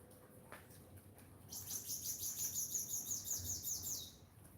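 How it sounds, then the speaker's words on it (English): A small Caribbean sparrow sings a quick series of high, bright chirps and trills after a short quiet stretch, fairly close, over faint background hiss. "We have a sparrow singing."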